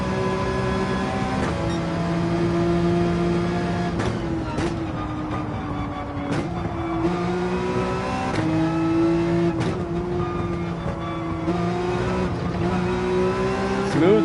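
Race car in Gran Turismo 7 held at full throttle, engine note rising and shifting through gears in a steady loud whine with brief dips at each change, close and continuous.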